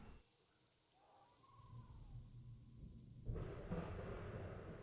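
A Planet Zoo thunderstorm rumbles at low volume, with a soft steady wash of rain that swells and turns harsher partway through, and a faint bird call drifting above it.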